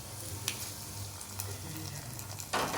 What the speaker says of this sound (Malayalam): ഇനി നമുക്ക് ഇതിനകത്ത് കടുക് വറുത്തിടാം.